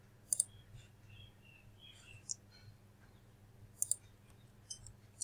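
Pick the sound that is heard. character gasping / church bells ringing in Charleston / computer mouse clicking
computer mouse clicking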